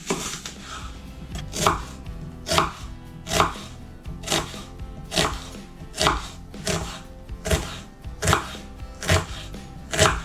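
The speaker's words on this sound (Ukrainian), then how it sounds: "Цибульку наріжу та обсмажу в олії." A knife chops onions on a cutting board for a meat-filled bendery crepe dish, about ten steady, evenly spaced strikes. Each hit is crisp and close, with no talking.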